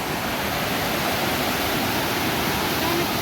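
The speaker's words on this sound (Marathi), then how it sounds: "इथे खूप मोठी नदी आहे" A large river swollen after heavy rain in the Konkan countryside, flowing as a steady, loud, dense rush of water that fills the whole scene without pause.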